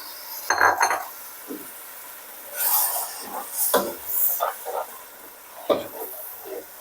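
Chopped tomatoes being sautéed in a pan for ridge gourd (tori) curry: scattered spoon clinks and scrapes against metal at irregular intervals, with a faint sizzle between them and no talking.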